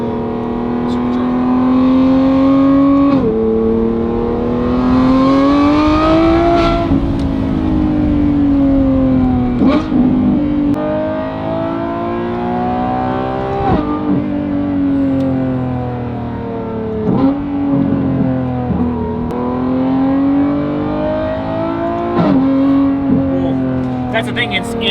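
A Lamborghini Revuelto fitted with a Valvetronic Designs race exhaust revs hard and loud, its high-pitched wail climbing and falling in repeated surges with brief gear-change dips, up close and continuous throughout.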